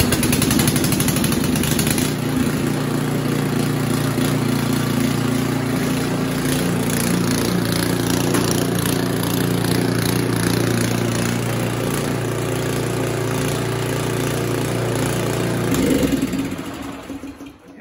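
An Ariens Compact 24 snow thrower's small gasoline engine runs loud and steady at a constant throttle for about sixteen seconds, close up, then winds down and cuts off at the end.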